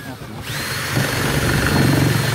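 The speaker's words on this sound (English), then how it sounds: "So I'll put the drill just in through it." A power drill spins up and bores through timber held in a Katsu pocket hole jig at a community workshop, its whine rising near and loud after a brief quiet start.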